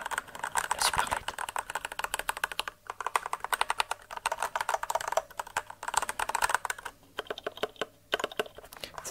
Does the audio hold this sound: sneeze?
no